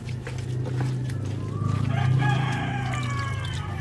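Layer hens cluck close by over a low steady hum, with a rooster's drawn-out crow rising midway and trailing off.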